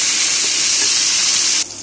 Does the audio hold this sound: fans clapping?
no